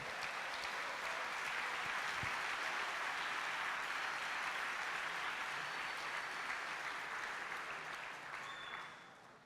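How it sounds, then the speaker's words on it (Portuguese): Church congregation applauding for about nine seconds, a loud, steady and dense wash of clapping that fades slightly near the end. "Dá uma palma de um aplauso ao Senhor"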